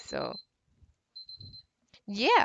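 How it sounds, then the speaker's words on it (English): A phone or clock alarm beeps in short repeated high tones during a Dota 2 tournament broadcast, starting, stopping briefly and then resuming, with a voice talking around it. "Oops, that was my alarm."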